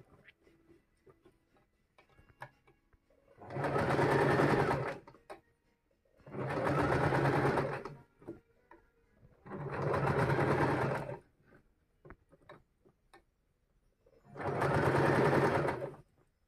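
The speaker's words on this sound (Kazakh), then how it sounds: "Келесі жағында осылай тігіп аламыз." A sewing machine stitching fabric runs in four bursts of roughly two seconds each, a loud close whirring hum, separated by quiet pauses filled with faint clicks and handling of the cloth.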